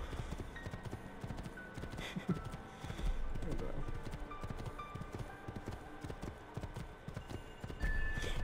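A horse gallops in Assassin's Creed II with rhythmic clip-clop hoofbeats that carry on throughout, and someone talks over them.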